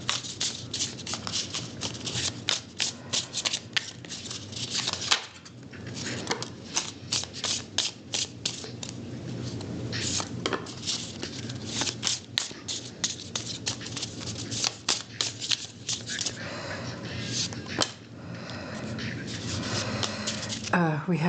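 Oracle cards shuffled by hand in a steady, rapid stream of crisp riffling pats and flicks, close and continuous with brief pauses.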